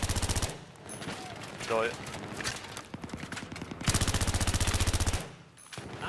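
Automatic gunfire in Battlefield 3, loud rapid bursts at the start and again near the end, with quieter shooting and a brief spoken word in between.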